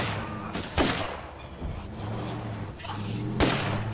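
Gunfire in State of Decay 2, a few sharp shots spaced apart over a steady background of engine hum and game ambience, moderately loud.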